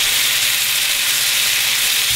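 A steak sears in its own rendered fat in a hot pan, giving a loud, close, steady sizzle and crackle with no pauses and no talking.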